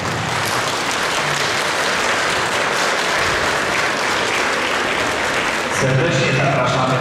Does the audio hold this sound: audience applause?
yes